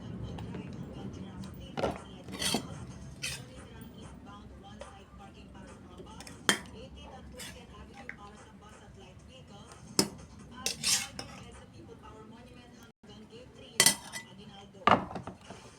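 Dishes and cutlery clink and scrape while fried tilapia in sarciado sauce is plated in a home kitchen, with several sharp clatters scattered over a soft background and occasional quiet speech.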